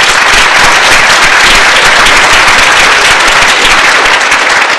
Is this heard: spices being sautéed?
no